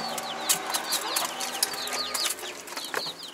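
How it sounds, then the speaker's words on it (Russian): Birds call repeatedly at a market in Uzbekistan, with short chirps and clucking notes coming in quick bursts, fairly close and moderately loud over a busy outdoor background. "Красивая птичка очень, но какая-то шуганная."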